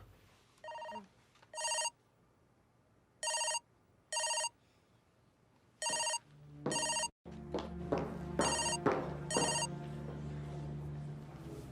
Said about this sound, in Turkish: Telefonun çalıyor galiba.